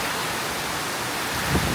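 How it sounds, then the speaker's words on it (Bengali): A heavy nighttime rainstorm driven by strong wind roars as a dense, steady wash of rain noise, close and constant throughout with no voices. "ঝোড়ো না একেবারে ঝড় বৃষ্টি।"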